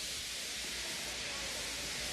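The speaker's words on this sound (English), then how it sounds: "He just let off steam feebly." A steam engine feebly letting off steam in a station, a continuous soft, even hiss with no break.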